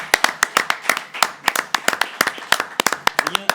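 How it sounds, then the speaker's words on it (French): Scattered, uneven hand claps from a small group honouring Arnaud Baratte, founder of DELISSEA, sharp and close, continuing steadily for several seconds. "On peut applaudir Arnaud Barat."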